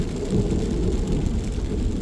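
Deep, continuous rumble of thunder rolling across mountains during a thunderstorm over the Bowron River area, loud and sustained with a dense low-end roar and faint rain-like hiss above, no voices.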